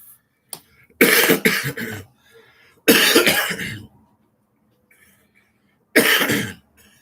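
Several harsh, loud coughing fits in bursts with short pauses between them, close to the listener and with no talking.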